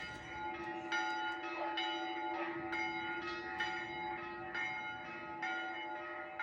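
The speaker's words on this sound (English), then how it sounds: "Here'll be the bells next." Church bells ring at night on the French Riviera, distant and fairly faint, with repeated strikes roughly every second over a sustained humming tone.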